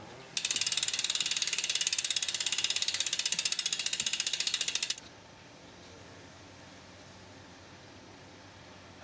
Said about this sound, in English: The back wheels spin with the normal noise.